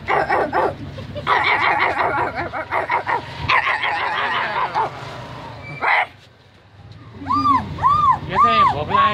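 A woman vocally imitates a hungry, distressed dog, producing a close, loud run of barks, yelps and whimpering whines with short pauses between bursts.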